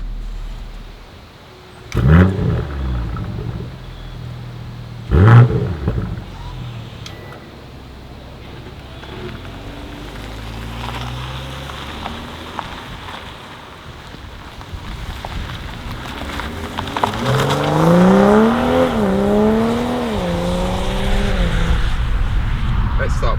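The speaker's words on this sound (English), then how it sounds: "let's get this car out on the road and see what it feels like" A 2023 BMW M340i G20 3 Series drives on the road; steady road and tyre noise carries throughout, with a couple of thumps early on and the engine note rising and falling through gears near the end.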